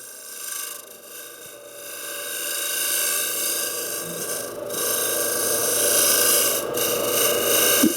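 A lathe tool cuts punky wood on a turned tulip bowl, a steady close scraping rasp over the low hum of the spinning lathe, swelling slightly louder toward the end.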